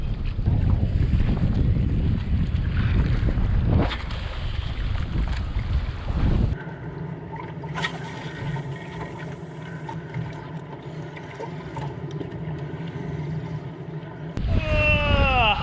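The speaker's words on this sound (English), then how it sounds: "It is windy. It's blowing about 35 knots right now." Strong gusts of about 35 knots roar across the microphone on a fishing boat at sea off Indonesia, giving way to a steady engine drone, with a short burst of talk at the end.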